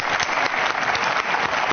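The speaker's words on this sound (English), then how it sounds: "Can we get some more applause for Nick?" Studio applause greets a radio morning show guest, a short burst of dense, even clapping with no voices over it.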